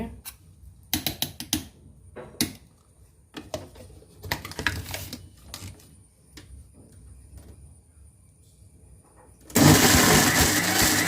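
A mixie grinding batter with added water: scattered clicks and clatter at first, then the mixer grinder kicks in with a loud, continuous whirring roar near the end.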